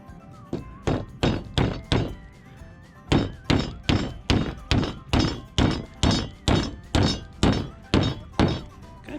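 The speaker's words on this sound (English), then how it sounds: "use a hammer and nail" Steady rhythmic hammer blows driving nails into wood while building a chicken coop, about twenty sharp thunks in quick regular pairs and runs, close and loud with no talking.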